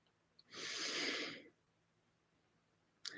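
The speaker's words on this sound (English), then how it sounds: "Take a deep diaphragmatic breath." One deep diaphragmatic breath, a long, airy inhale lasting about a second, heard close and alone in a quiet room, followed by silence and a brief start of another breath.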